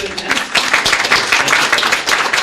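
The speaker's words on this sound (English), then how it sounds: "let's start off with please a round of applause for him" An audience at a talk on mass atrocities applauding the event organizer, a steady burst of close clapping from many hands throughout.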